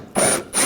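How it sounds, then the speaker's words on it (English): A ratchet with a 10mm socket turns a bolt on a 2013-2019 Ford Escape, giving two quick bursts of close, loud clicking separated by a short pause. "take these bolts out"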